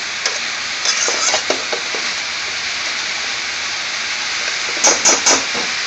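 Green beans, potatoes and spices frying in a pan over medium heat, sending up a steady, close hiss of steam and sizzle, with brief clatters of stirring near the start and end.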